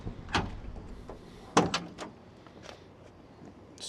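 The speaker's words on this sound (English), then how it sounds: "Smooth pop on the doors." Door of a 1970 Dodge Challenger R/T 440 four-speed pops open with a sharp close-up mechanical click, followed by a few softer latch and hinge sounds in a quiet space.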